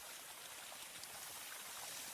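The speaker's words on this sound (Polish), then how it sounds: "Mamy awarię wododociągu! Woda zalewa drogę." Cartoon water gushes from a burst water main onto a road as a steady, faint rushing hiss with no voices.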